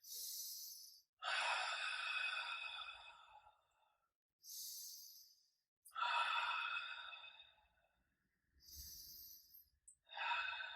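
Loud, deliberate breaths during a Pilates session, with strong airy exhales in repeated bursts separated by short silences, close to the microphone and with no talking.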